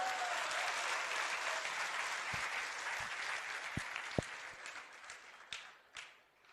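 Audience applause at a Jain chaturmas kalash sthapana ceremony, a broad wash of crowd clapping that thins out and fades, leaving a few scattered louder claps near the end.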